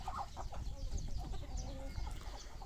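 Sonali hens on a poultry farm cluck and cackle in a busy overlapping chorus, with short repeated calls at moderate distance over a faint low background hum.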